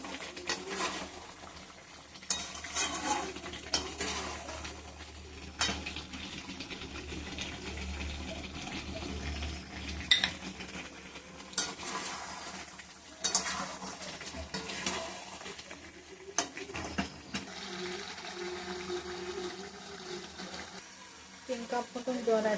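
Chicken curry stirred and sautéed in a pan, a steady soft sizzle with scraping spoon strokes and occasional clinks, fairly quiet and continuous.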